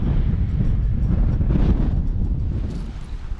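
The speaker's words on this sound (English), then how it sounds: "It's a bit windy down here." Wind roars across a microphone at an outdoor stop near Tortuga Mora in Almería, a loud, dense low rumble throughout that eases slightly near the end.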